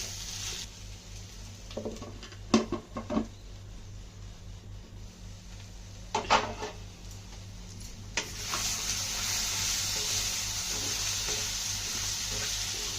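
Potato curry frying in a pan, a steady close sizzle that swells louder toward the end, broken by a few sharp spoon knocks and scrapes against the pan.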